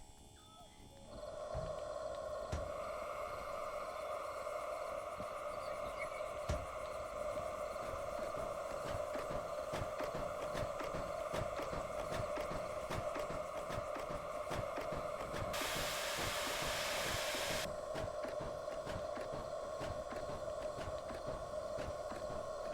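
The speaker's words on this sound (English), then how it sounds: "I got the blower on max." A truck cab heater blower fan runs on its maximum setting, giving a steady, loud whooshing drone with a constant hum that holds throughout, alongside a bright hiss that swells briefly near the end.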